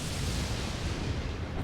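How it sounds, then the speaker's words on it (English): A lightning strike in the video game Elden Ring, a loud, sustained thunderous boom with broad rumbling crackle filling the whole moment, alone without speech. "The lightning just straight up killed that goat."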